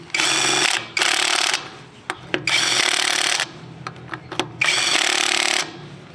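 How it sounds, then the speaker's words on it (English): An AutoJare 20V battery impact driver tightens wheel nuts on a car wheel, giving four loud hammering bursts of about half to a second each, separated by short gaps with light clicks and handling noise. "Let's tighten them back up."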